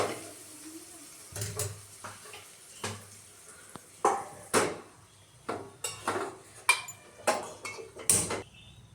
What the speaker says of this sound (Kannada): ಈಗ ಸ್ವಲ್ಪ ಮಂಡಕ್ಕಿ ಒಗ್ಗರಣೆ ಮಾಡ್ಕೊಂಡ್ಬಿಡ್ತೇನೆ.